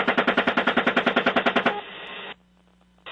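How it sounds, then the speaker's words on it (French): Rapid burst of heavy 30 mm cannon fire from a helicopter in a combat zone, about fifteen evenly spaced loud thumps in quick rhythm, then a lingering rumble and quiet. "Les canons 30 mm dans l'hélicoptère sont sans pitié"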